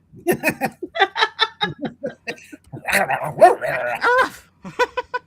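A video game dog barks and yips in a quick run of short calls, loud and close, with a player's voice and some laughter mixed in.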